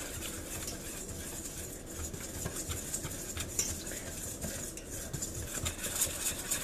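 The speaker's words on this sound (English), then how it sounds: "And then you want to take a whisk and you want to make sure that this is good and combined." A whisk stirs flour and baking powder together in a bowl, making a soft, continuous scraping swish with faint metallic taps against the sides, quiet and close with no voices.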